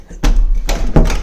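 A shut door rattles and thumps in its frame, giving three separate heavy knocks that land close and loud in quick succession.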